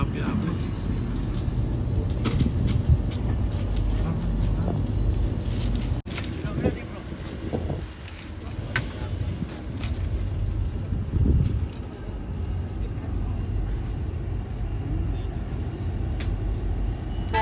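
Train running on the Mangalore to Yesvantpur line, a continuous rumbling roll with wind buffeting and occasional clanks, recorded from on board at moderate level, with a voice talking over it.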